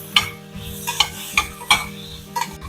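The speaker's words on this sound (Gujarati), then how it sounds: "બટેટાને પણ સેલો ફ્રાય કરીએ." Potatoes shallow frying in a little oil in a pressure cooker for a Gujarati cauliflower curry, with a soft sizzle throughout and about six sharp scrapes of a spoon stirring against the pot at irregular intervals, close and clear.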